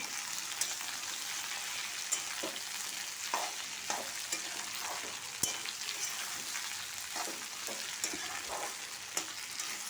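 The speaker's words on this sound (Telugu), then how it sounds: "కూర కూడా వేగిపోయి వచ్చింది. శుభ్రంగా కలపాలి." Tomato curry fries in a pan with a steady sizzle while a spoon stirs it, giving scattered scraping taps over the hiss.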